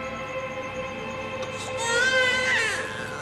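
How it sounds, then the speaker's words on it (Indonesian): An infant cries in a hospital scene from an Indonesian horror film, a thin wailing cry rising midway and sustained over a steady tonal background, moderately loud. "Ia mendengar tangis bayi."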